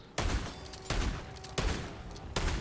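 Four heavy blasts from the Reclaimer 18 shotgun in MW3 Zombies, fired at an even pace about three quarters of a second apart, each loud booming report trailing into a short decay, with no voices.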